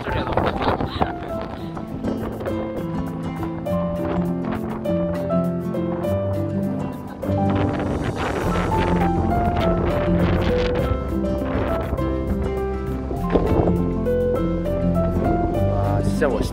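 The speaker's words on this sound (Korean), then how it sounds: "바람이 너무 많이 불어가지고 이러면은 목소리만 해도 막 바람 소리가 너무 크거든요." Gusty wind buffets the microphone in low rumbling bursts throughout on a coastal Olle trail walk in Jeju Island, with music playing underneath.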